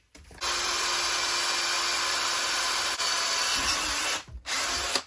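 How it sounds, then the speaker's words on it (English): A Lidl cordless drill runs at a steady high-pitched whine for about four seconds, close and loud, with a brief dip midway before it stops and restarts briefly. "Do we need to test the drill?"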